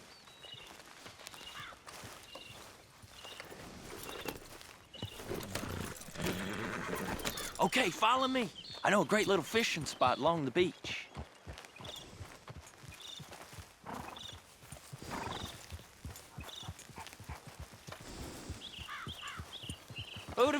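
Horse hooves clip-clopping in Red Dead Redemption 2, a steady walking rhythm with an occasional whinny, running under game characters talking throughout.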